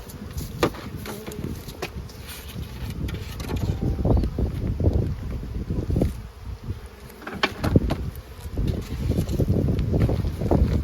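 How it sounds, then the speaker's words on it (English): Wind gusting outdoors around beehives, a steady rushing roar with microphone buffeting that rises and falls in waves, and the faint buzz of bees mixed in. "Getting windier."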